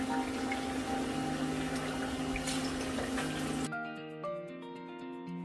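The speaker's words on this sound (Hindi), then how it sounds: "मैं इसमें 1 लीटर जो है वाटर डालूंगी" Roughly a litre of water pours into a cooking pot for lamb nihari, a steady close rushing stream that cuts off after nearly four seconds and leaves a quieter ringing hum.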